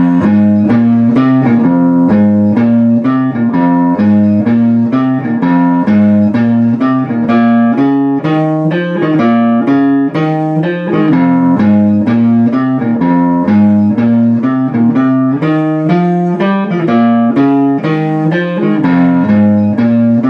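A guitar plays a steady, repeating blues rhythm pattern, loud and close, with chugging chords cycling evenly throughout and no voices.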